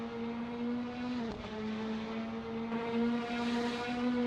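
A steady engine drone holds a constant pitch with a faint whine on top, a continuous mechanical hum with no voices, from an Alfa Romeo 4C's TBI engine in a racing video game at Aviano.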